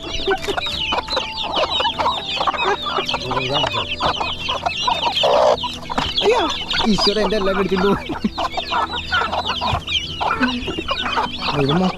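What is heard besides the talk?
chickens clucking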